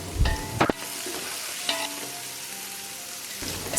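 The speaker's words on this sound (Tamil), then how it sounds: "கொஞ்சமாக நெய் சேர்த்துக்கிறேன், கொஞ்சம் எண்ணெய், அதுக்கப்புறம் வெங்காயம், அதுக்கப்புறம் புதினா, கொஞ்சம் கொத்தமல்லி" Onions, mint and coriander fry in ghee and oil for chicken biryani, a continuous soft sizzle broken by a few sharp stirring scrapes of a utensil in the pan.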